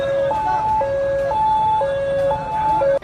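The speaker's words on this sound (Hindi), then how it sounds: "इसके बाद तो सड़कों पर एम्बुलेंस के सायरन सुनाई देने लगे।" Ambulance siren on city streets, a loud two-tone wail alternating steadily and close by, with no talk.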